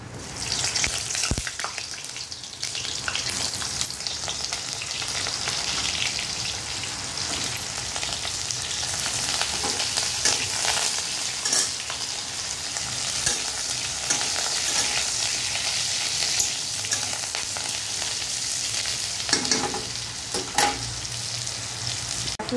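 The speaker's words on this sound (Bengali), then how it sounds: "পটলগুলো ভেজে নেব।" Pointed gourd (potol) pieces fry in oil in a wok with a continuous, dense sizzle and crackle, close and even, with a few sharp clinks of a utensil and no voices.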